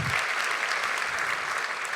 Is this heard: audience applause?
yes